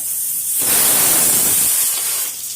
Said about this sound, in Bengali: প্রেশার কুকারে সিটি মারছি।